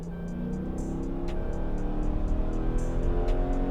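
Cammed 2014 Dodge Charger with a 5.7L Hemi V8 held at full throttle, a steady loud engine drone that climbs gradually in pitch with a ticking rhythm throughout.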